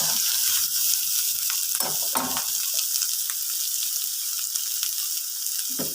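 Scrambled egg cooked with chili and salt is stir-fried into noodles in a hot pan, giving a loud, continuous sizzle broken by occasional scraping and stirring knocks.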